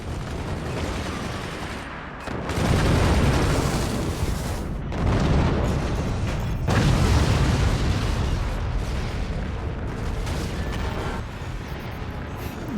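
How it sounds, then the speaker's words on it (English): Cannon shots and explosions from the strategy game Forts pile up in dense rumbling booms and bursts, loud and continuous with heavier blasts every couple of seconds, no speech heard. "Cannon shot coming down in the front."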